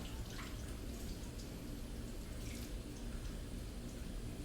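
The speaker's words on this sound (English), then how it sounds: "I will first turn my faucet on to a medium warm flow" Steady broadband hiss of a faucet running a medium flow of warm water for handwashing, continuous and fairly faint throughout with no talking.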